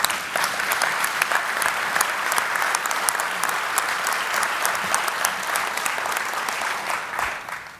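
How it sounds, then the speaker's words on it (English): Sustained audience applause at an award dinner speech, with many hands clapping at an even, fairly loud level for several seconds before it eases off slightly at the end. "Applause line."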